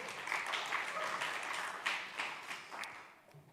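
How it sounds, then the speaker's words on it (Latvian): An audience claps to welcome a speaker, a steady patter of many hands at moderate distance that gradually thins out toward the end. "ar aplausiem!"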